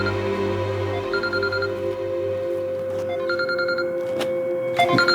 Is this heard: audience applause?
no